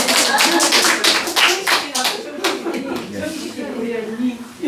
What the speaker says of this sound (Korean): 정재숙 권사님. 박수.